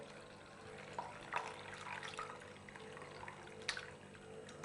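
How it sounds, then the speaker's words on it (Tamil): Plain water poured and splashing over freshly made chhena paneer, curdled with lemon juice, as it is rinsed for rasmalai; a faint, steady pouring wash with a few soft splashes. "நம்ம நார்மல் வாட்டர் ஊற்றி வாஷ் பண்ணிக்கலாம்"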